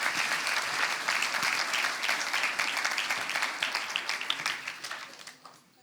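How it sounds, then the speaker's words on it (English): Applause from a panel event's stage audience, full and steady at first, then thinning into scattered individual claps as it fades out. "Can I ask for a round of applause for the stage audience that we've got here?"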